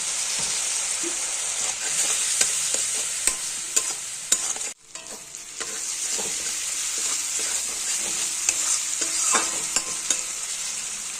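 Paneer and vegetables simmer in a pan with tomato, turmeric and a splash of water, a steady sizzle broken by scattered clinks of a spatula and one brief hush, as if a lid drops on, with no talk.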